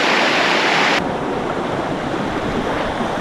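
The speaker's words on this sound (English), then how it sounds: "I hear some strong water sounds, so it might just be that the waterfall is near." Loud, close rushing water from a waterfall and fast river in the outdoors, a dense continuous roar with no talking, briefly brighter at first and then a steady full wash.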